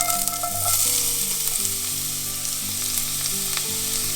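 Chopped celery sweats in olive oil in a cooking pot, giving a steady, close, continuous sizzle with faint sustained tones running underneath and no speech.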